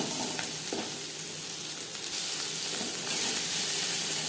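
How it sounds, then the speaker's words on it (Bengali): Sliced onions fry in hot oil in a pan until reddish-brown, the base for a ridge gourd and prawn chorchori, giving a steady, close, continuous sizzling hiss with no voices. "পেঁয়াজ লালচে করে ভাজা হয়ে গেছে।"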